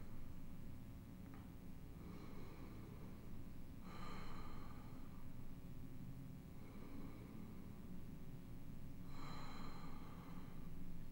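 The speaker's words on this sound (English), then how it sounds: "Take three big breaths right here." Slow, deep breaths are taken during seated chair yoga, three breathy swells spaced a few seconds apart, faint and airy over a steady low rumble.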